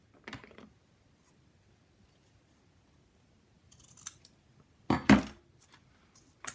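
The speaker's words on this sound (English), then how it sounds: "I can cut it a little bit shorter" Scissors trim a small piece of material for an Altoids tin sewing kit with built-in pincushion, a few quiet snips near the start and near four seconds, then one louder, sharper cut around five seconds in a quiet room.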